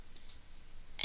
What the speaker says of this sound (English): right click on mineccraft_server and click on rename